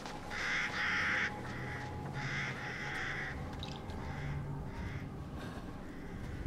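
Crows caw in a Resident Evil Village game scene, a few harsh repeated calls in short bursts over a steady low ambient drone, moderately near.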